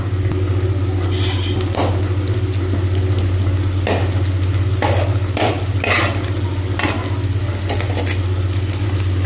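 Five eggs and green chillies frying in oil for chicken noodles, a loud, constant sizzle with a low steady hum underneath and repeated sharp scrapes and taps of a spatula against the pan.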